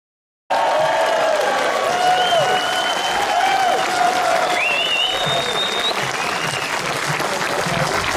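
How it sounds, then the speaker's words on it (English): A crowd applauds a motorcycle road racer at an outdoor meet-the-riders event in Coleraine, with steady dense clapping sustained throughout and a few faint voices and whistle-like calls over it. "Come on, give them a round of applause."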